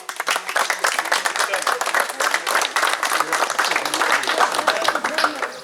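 Dense, steady applause from an audience at the 2016 Shkolnikov memorial football event fills the whole stretch at an even, loud level, with no voices standing out.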